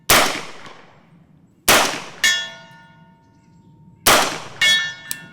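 A SIG MCX Rattler in .300 Blackout fires subsonic rounds at steel targets, giving three loud reports, two of them followed moments later by a bright metallic clang of steel ringing out, with no talking.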